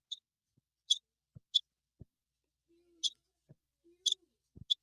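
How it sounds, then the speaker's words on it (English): Short, bright chirps sound about six times at irregular intervals, faint and sparse, during a nighttime ghost investigation at a reputedly haunted Alaska site, with a few soft low clicks and brief hums between them. "Do you hear that? Right. Yeah, that chirping?"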